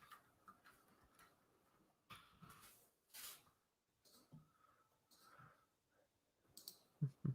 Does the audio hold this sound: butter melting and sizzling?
no